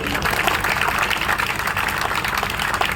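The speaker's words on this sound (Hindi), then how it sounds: "अपनी तालियां बजाइए और राम के लिए तालियां बजाइए" An audience at a poetry recital claps continuously and densely, a steady wash of applause with no breaks, fairly loud and close.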